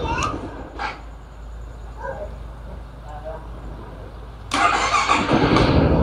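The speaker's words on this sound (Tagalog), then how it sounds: "i-try ko i-stop tapos i-on ulit kung andar ba siya ulit" A Yamaha Xmax 300 scooter with a battery problem is started again: quiet idle noise with brief clicks and talk, then the engine catches and runs loudly and steadily for the final seconds.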